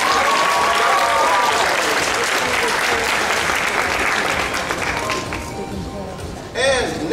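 An audience at a spring anime convention costume contest claps and cheers loudly for several seconds. The applause then thins out toward the end as a voice comes in over it.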